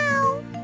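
A cartoon cat from Dora the Explorer gives a single drawn-out, high meow, loud and close, with no talk over it.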